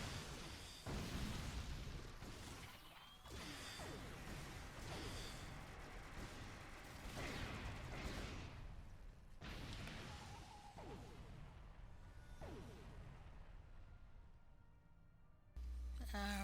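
Repeated mortar explosions and booms in Star Trek Online, dense and continuous with whooshes and bursts layered over a busy game soundtrack, loud throughout with a sharp final blast.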